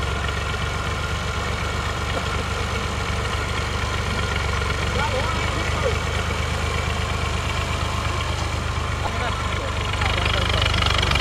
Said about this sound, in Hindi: देखे ट्रैक्टर आगे से ऊपर उठा हुआ है